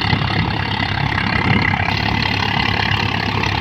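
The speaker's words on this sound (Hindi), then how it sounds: "दोस्तों इस वीडियो में देखते हैं स्वराज जो काफ़ी सब ट्रैक्टरों में सबसे दमदार ट्रैक्टर आता है, स्वराज 855" A Swaraj 855 three-cylinder tractor engine runs steadily while making chaff, a constant rumbling drone with a dense mechanical texture, close and unbroken.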